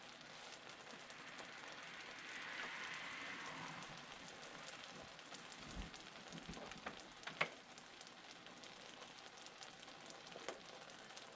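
Sharp cheddar cheese simmering in a pan, a steady soft sizzle and bubbling hiss throughout with a few brief clinks and stirring sounds, no talking.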